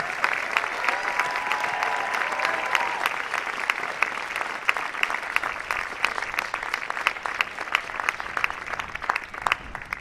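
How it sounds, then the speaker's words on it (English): An audience at a military academy commencement applauds the Corps of Cadets, a steady round of clapping with sharp individual claps standing out, sustained across the whole stretch. "Please give the Corps of Cadets a vigorous round of applause for completing a successful school year"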